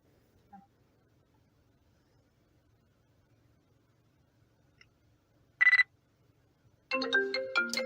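Incoming-call ringtone on a phone: after a near-silent stretch with a couple of tiny clicks, a brief tonal burst sounds, then a loud melodic ring starts up and continues to the end.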